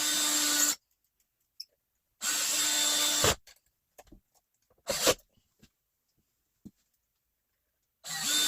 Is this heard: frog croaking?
no